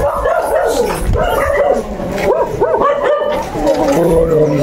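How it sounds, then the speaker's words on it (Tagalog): Several dogs bark and yip loudly nearby in a Philippine neighborhood, overlapping barks and whimpers in irregular bursts over a busy background. "Maraming aso dito."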